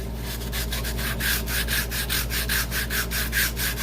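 A surface sanded by hand on a piece of junk furniture being restored, steady rhythmic back-and-forth rasping strokes about four per second, close and loud, with no talking.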